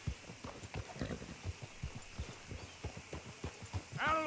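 Horse hooves clip-clopping in the video game Red Dead Redemption 2, a steady rhythmic trot of sharp hoof strikes at close range, ending with a brief whinny.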